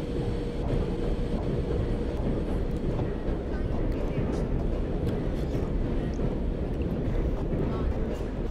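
Karnataka Express train pulling out of a station, a steady loud rumble of wheels and carriage noise heard from on board, continuous and dense throughout without clear breaks.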